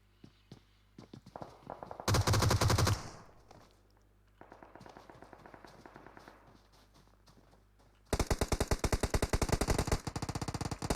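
Gunfire in PUBG Mobile during a competitive esports scrim match, a loud burst of automatic fire, scattered quieter shots, then a long rapid volley at close range with no talk.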